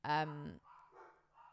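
A single short dog bark sounds up close, followed by quieter muffled sounds.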